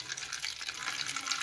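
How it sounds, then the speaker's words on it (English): Water poured into the bottom of a baking pan holding chicken wings, a brief, close splashing trickle that runs steadily for a moment with no voices. "So I'm just going to add just a little bit of water"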